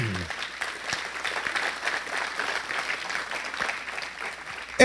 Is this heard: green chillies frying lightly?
no